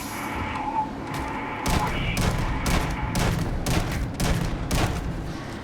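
Repeated shotgun blasts in the Starfield video game, about seven heavy booming shots at an uneven rhythm, loud and close over continuous background noise.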